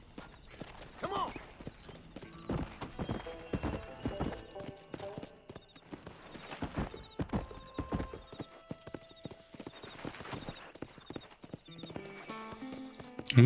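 Horse hooves clip-clop at a walking pace in a Western video game, uneven clusters of hoof strikes with a brief whinny, over faint game music and ambience.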